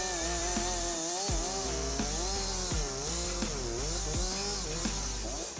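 A Husqvarna 357 XP chainsaw cuts steadily, its loud, close engine whine rising and falling in pitch as the load changes. The sound runs continuously throughout, with no voices.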